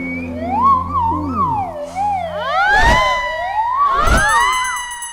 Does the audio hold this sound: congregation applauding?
no